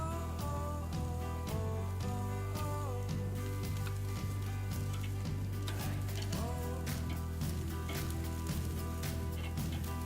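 Steak kebab skewers cut into strips sizzle steadily on a hot grill, a continuous close frying hiss with small crackles and pops throughout, no voices.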